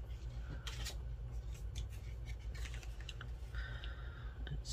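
Scissors cutting through a paper envelope for a craft project, heard as a series of close, quiet snipping and rustling sounds over a low steady background hum.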